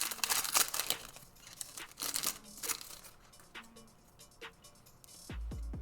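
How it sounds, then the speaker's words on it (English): Foil wrapper of a 2020 Contenders football trading card pack crinkling and tearing open in several quick bursts, close and fairly faint, with a brief louder thump near the end. "We got lots of packs to rip through today."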